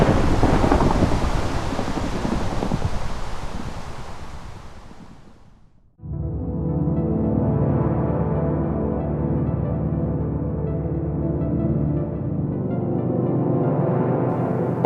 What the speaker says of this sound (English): The chances of survival in an electrical storm of this magnitude are extremely slim